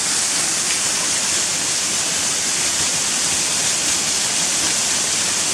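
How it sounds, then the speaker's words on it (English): A waterfall in the Yorkshire Dales near Gunnerside pours and splashes into a pool, giving a loud, constant roar of rushing water with no pauses or voices. "So this is the waterfall"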